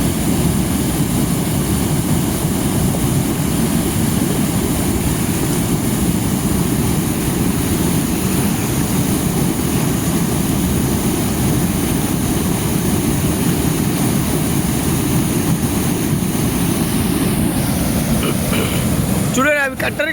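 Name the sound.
waterfall, water falling and splashing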